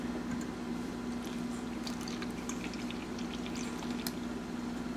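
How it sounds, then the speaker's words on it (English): Whole milk pours from a container into a bowl for blueberry cobbler batter, a steady liquid trickle and splash lasting a few seconds with no talking. "I'm going to pour 2 cups of whole milk."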